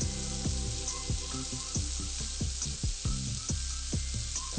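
Beef patties sear in a hot pan with a loud, steady sizzle and frequent crackling pops, close and continuous, with no voices.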